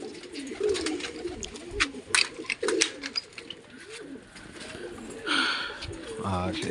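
Kaldum pigeons coo with low, throaty, rolling calls, including a clear coo near the end, heard close by amid people talking and other background sounds.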